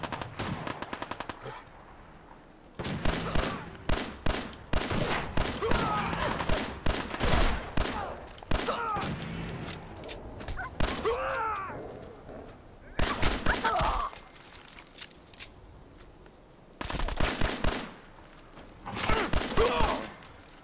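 Gunfire in Fallout 4 crackles in rapid bursts, several loud volleys of shots spaced across the stretch with brief pauses, pistol fire among the battle noise, a voice faintly present at times.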